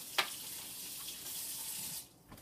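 Tap water runs steadily into a kitchen sink as vegetables for a Thai noodle salad are rinsed, a soft continuous hiss that cuts off near the end.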